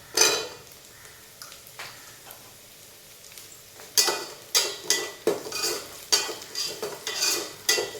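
Whole small onions go into a pan for mutton butter gravy and are stirred, a quiet sizzle at first, then repeated close scraping strokes of a spoon against the pan in a steady rhythm.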